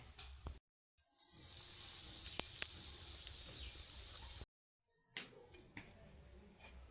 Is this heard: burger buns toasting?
yes